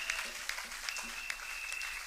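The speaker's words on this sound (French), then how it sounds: "clap the Lord for that?" A church audience at a worship night applauds, a soft, steady patter of clapping heard from some distance, with a sustained tone and faint voices underneath.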